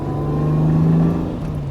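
A freshly rebuilt, standard unmodified Jaguar E-Type engine, not yet run in, revs at about quarter throttle: a smooth, close mid-pitched rise that holds briefly and then eases back.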